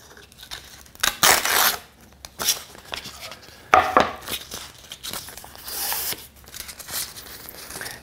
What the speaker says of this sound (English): now I've got some 120 sandpaper. I'm just going to go ahead and rip